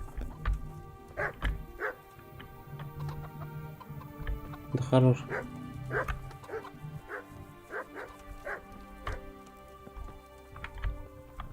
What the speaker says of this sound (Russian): Тут собака так-то.